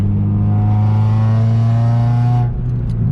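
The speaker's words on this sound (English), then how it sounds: "somewhat low compression, it sounds, for an Acura / Honda motor" A Honda engine in an Acura RSX runs steadily while driving, with a loud, constant droning hum that eases slightly near the end. The engine sounds somewhat low on compression.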